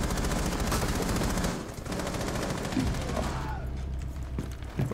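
Rapid automatic gunfire rattles in Rainbow Six Siege, a dense stream of shots that pauses briefly and then resumes more sparsely, while a voice talks underneath.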